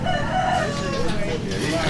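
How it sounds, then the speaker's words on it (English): A rooster crows outdoors at a ranch family gathering, a sustained call set against steady background noise, with voices nearby. "Hey, that's a rooster."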